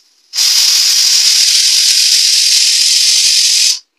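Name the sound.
pressure cooker whistle releasing steam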